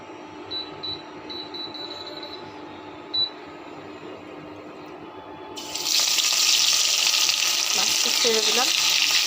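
Fish dropped into hot oil in a wok: quiet kitchen ambience with a few clinks, then a loud sudden burst of sizzling frying that holds steady, with a faint voice underneath.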